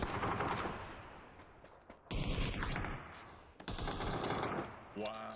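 Rapid automatic gunfire in PUBG, loud bursts broken by short pauses and sudden restarts, with a voice talking under and between the shots.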